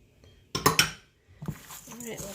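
A spoon clinks and scrapes against a bowl as meatball ingredients are mixed: ground meat, flavored breadcrumbs, beaten egg and milk. Two close clattering knocks are followed by softer scraping and stirring, with a voice faintly under it.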